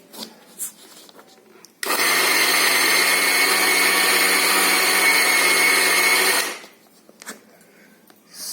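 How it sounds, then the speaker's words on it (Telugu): A kitchen mixer grinder runs for about five seconds, grinding sesame seeds into powder with a loud, steady whirring roar that starts and stops abruptly, with quiet room sound on either side. "ఎప్పుడు కూడా మిక్సీ వేసేటప్పుడు ఏదైనా సరే జస్ట్ ఒకసారి మూమెంట్ అలా ఇచ్చేసిన తర్వాత కలపాలి కలిపి మళ్ళీ రెండోసారి వేసుకోవాలి"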